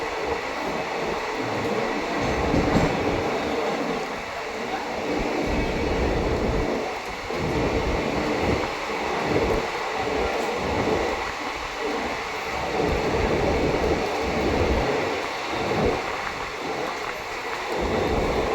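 The Howrah-New Delhi special train passes Anand Vihar with a loud, steady rumble of wheels on rails. A rhythmic pattern of clacks and thumps repeats all the way through, close by and with no voices.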